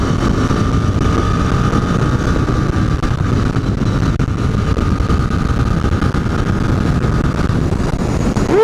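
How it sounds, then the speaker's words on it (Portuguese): A Royal Enfield Continental GT 650 motorcycle accelerating hard on the road, its engine droning loud and close with a steady rising tone and wind rush, no talk over it. "vamos acelerar ela aqui, hein? Vamos acelerar ela."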